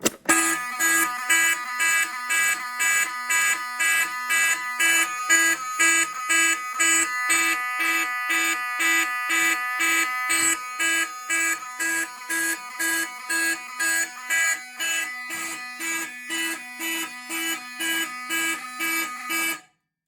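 A loud Faraday 5430 fire alarm horn, on a Fire-Lite MS-9600UDLS system test, blares in a steady repeating pattern of short pulses, continuing without pause until it cuts off abruptly.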